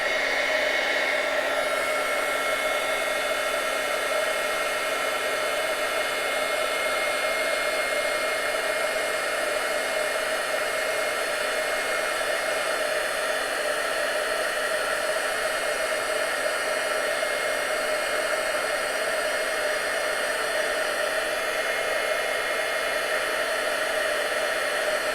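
Heat tool blowing steadily to melt embossing powder for heat embossing, a loud, continuous hair-dryer-like whoosh with a high whine that holds evenly for about 25 seconds, with no talking.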